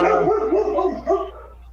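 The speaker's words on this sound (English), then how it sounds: "There's a dog in the Matrix, right?" A dog nearby gives a short run of yips and barks that trail off into whimpering, loud and close with no talk over it.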